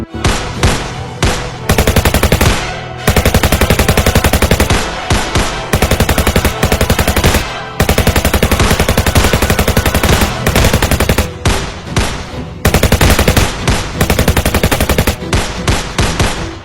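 Loud, sustained machine-gun bursts in a staged army skit set near a border, rapid fire coming in long volleys separated by brief pauses, with no talking over it.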